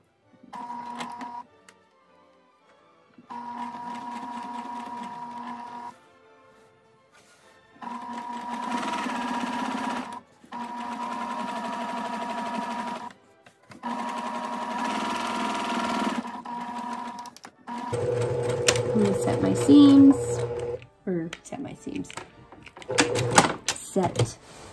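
A home sewing machine stitches binding onto a quilt in several steady runs of rapid whirring, pausing between bursts, close by with someone speaking softly between and over the stitching.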